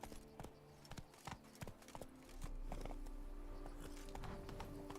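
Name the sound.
horse Roach's hooves, from video game Witcher 3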